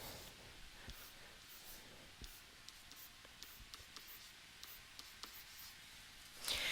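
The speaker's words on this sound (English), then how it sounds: "we can draw a little number line underneath here" A pen draws a small number line on paper, leaving faint, close scratchy strokes and short ticks spaced through a quiet room, with a louder rustle at the very end.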